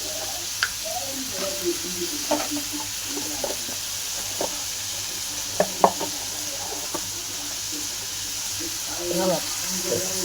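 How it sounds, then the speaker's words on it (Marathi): Chopped onion and tomato fry in a pan for a Marathi-style chutney, with a steady soft sizzle under occasional stirring clicks and scrapes, and someone talking over the cooking. "टमाट मी आणि कांदा चांगला तळून घेऊ"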